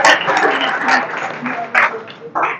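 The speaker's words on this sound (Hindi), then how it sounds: "जोरदार तालियां।" Loud, steady applause from an audience at a youth group gathering, a dense wash of clapping that swells again in two short bursts near the end.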